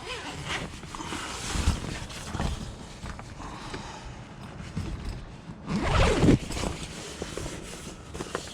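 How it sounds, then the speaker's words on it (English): Zipper being run along the awning opening of a Roofnest Condor Overland 2 rooftop tent, a rasping pull that swells near the end, with fabric rustle and outdoor background around it. "Then you have your zip for your awnings."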